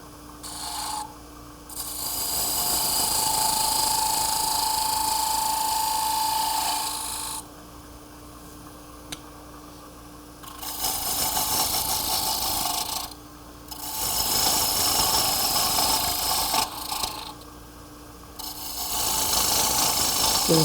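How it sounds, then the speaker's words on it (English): Spindle gouge cutting the lip of a wooden vase spinning on a lathe, a steady scraping rasp over a continuous motor hum, coming in long bursts with short pauses between cuts. "With my spindle gouge."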